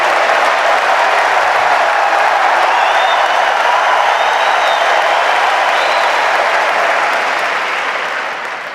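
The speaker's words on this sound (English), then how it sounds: "The crowd come alive here." Wimbledon Centre Court crowd applauding and cheering, a dense, loud, steady wash of clapping from a large stadium audience that holds for several seconds, then slowly fades near the end.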